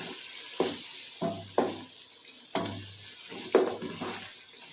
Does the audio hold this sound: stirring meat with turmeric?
yes